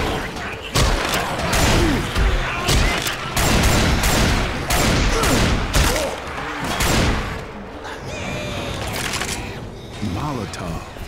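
Heavy, rapid gunfire from the Left 4 Dead video game with a modded Death Toll campaign, with dense bursts of shots and booming impacts running almost continuously, and players talking over the shooting.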